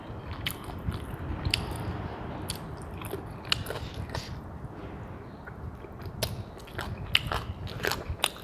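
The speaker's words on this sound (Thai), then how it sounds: "แคบหมูกับกรอบเลยพี่น้องแซ่บ" Crispy pork rinds being bitten and chewed, close and crunchy, with irregular sharp crackles over a constant mouth-noise bed, no talking.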